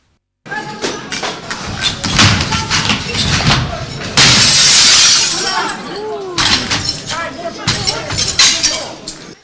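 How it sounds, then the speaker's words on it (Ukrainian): Glass and a security turnstile at a regional council building checkpoint being smashed, with loud repeated crashes, thuds and shattering glass amid shouting voices, and a bright burst of breaking glass midway. "Шум, гам, друзки та бите скло."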